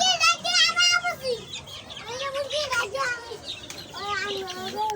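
Naked-neck hens cluck and call in short, repeated bursts close by, mixed with a voice talking over them.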